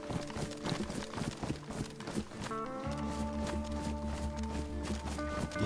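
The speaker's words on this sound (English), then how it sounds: "I can hear his footsteps." Another player's footsteps in the video game DayZ, a quick run of rhythmic steps in the first half, then a steady tonal hum takes over.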